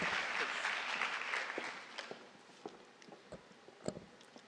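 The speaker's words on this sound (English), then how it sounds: "I think she deserves a huge round of applause" Applause from an audience for a young principal at a school franchise event, starting as a dense wash of clapping that thins out into scattered, separate claps fading away.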